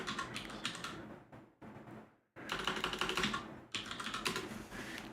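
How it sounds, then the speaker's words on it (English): Fast typing on a computer keyboard, dense clattering keystrokes in bursts with a short pause, close and clear with no voices. "Just look at my typing skills."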